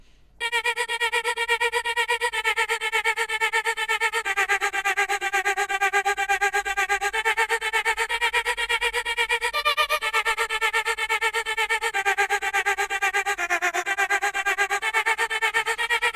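A sustained, processed vocal melody with a shifted, synthetic pitch, gliding between long held notes over a dense, bright backing, steady and loud throughout.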